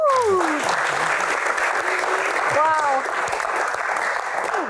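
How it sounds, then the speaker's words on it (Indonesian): Audience applause at an Indonesian Q&A talk show taping, a steady wash of clapping throughout, loud and close, with a host's voice rising briefly over the hands. "Tepuk tangan untuk para bintang tamu yang luar biasa"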